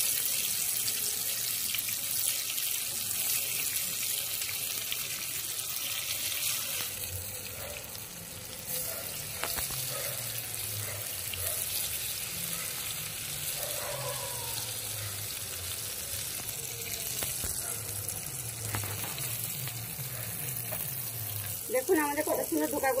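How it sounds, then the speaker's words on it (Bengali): Dhoka, lentil cakes made from ground dal, fry in hot oil in a pan with a steady, dense sizzle and crackle that continues throughout, fairly close and moderately loud, without any talking. "ধোকাগুলো ভেজে নেব লাল লাল করে"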